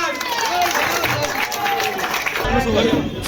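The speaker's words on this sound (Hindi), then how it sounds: "जोरदार तालियां बजाएं भैया, जोरदार तालियों से स्वागत।" A crowd at a Bharatiya Kisan Union gathering in Moradabad claps loudly to welcome a new member, continuous applause mixed with crowd noise and an amplified voice speaking over it.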